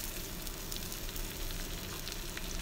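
Ready-made supermarket siomay (shumai, seafood dumplings) fried in a pan of hot oil, giving a steady, dense crackling sizzle that holds at an even loudness throughout, with no voices.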